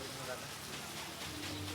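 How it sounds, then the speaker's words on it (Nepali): Rain falls in a steady, dense hiss of drops on surfaces outdoors, continuous and fairly even across the short stretch. "पानी परिरहेको चाहिँ"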